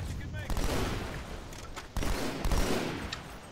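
Dense gunfire from the video game Halo 2 rattles almost nonstop in loud, overlapping bursts with a sharp jump partway through. Faint voices may sit under the shooting.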